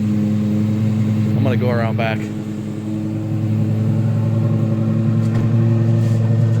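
A Lexus LFA supercar idles with a steady, loud exhaust drone and a brief rev swelling and falling, heard close up while someone speaks over it.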